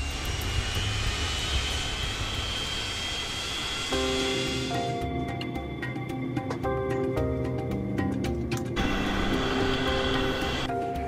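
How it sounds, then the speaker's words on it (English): Boeing 737 jet airliner engines whine and roar loudly as the plane taxis toward the runway, a sustained high turbine tone over a deep rumble, with shifting tonal hums and brief clicks joining midway. "It takes just 4 minutes for the plane to reach the foot of the runway."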